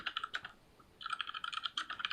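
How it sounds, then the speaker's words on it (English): Rapid, furious typing on a computer keyboard, a close and dense patter of key clicks that pauses briefly midway and then resumes at full pace, with no voices. "You can hear him furiously typing."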